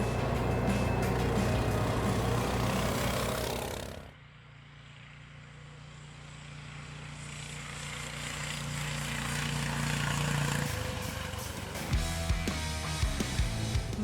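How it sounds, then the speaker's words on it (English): Engine of a Tofalar ATV bike riding along a forest road, a steady low motor drone that drops sharply after about four seconds, then builds back up, with some rattling and knocking toward the end. "Now we are moving along the forest road, and these bikes are cut out for such conditions."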